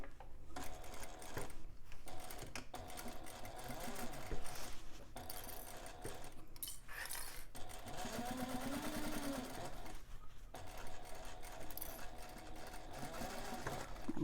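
A sewing machine runs steadily, stitching a half-inch seam along the lining side of a bag, its motor hum continuous and close for the whole stretch with only brief pauses between runs.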